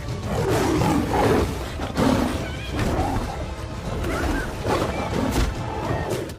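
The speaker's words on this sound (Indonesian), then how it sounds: "Ratu Sarabi menyuruh kawanan singa untuk menyerang Scar dan para hiena. Lions, attack" Lions roar and snarl as they charge at hyenas in an animated film battle: loud, dense overlapping growls and roars in repeated surges with crashing scuffles, no pause.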